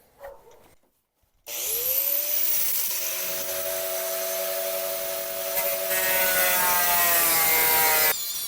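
A power tool cuts into the floor pan of a 1971 Chevrolet Nova, starting after a short pause and whining loud and steady for several seconds as it grinds through the sheet metal.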